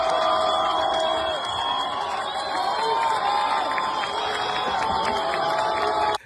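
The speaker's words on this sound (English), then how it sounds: "as soon as he pulled it out, the entire crowd got excited" A street crowd in Iran erupts in excited cheering and shouting as a man raises the lion and sun flag, a dense, continuous roar of many voices with whoops rising above it throughout.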